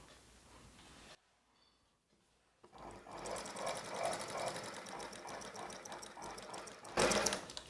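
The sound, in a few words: sewing machine stitching a silk saree blouse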